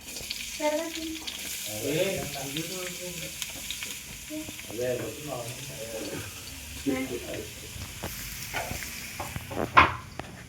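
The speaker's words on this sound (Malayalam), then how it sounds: "വെളിച്ചെണ്ണ ഒഴിച്ചിട്ട് സബോള ഇട്ട് കൊടുക്കാം." Sliced onion fries in coconut oil with a soft, continuous sizzle, while a voice talks over it for much of the time.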